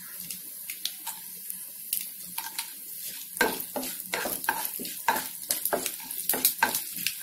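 Mustard seeds and dried chillies fry in hot oil with a soft, steady sizzle, broken by sharp crackles and pops that quicken midway as the seeds burst, close by and with no talk.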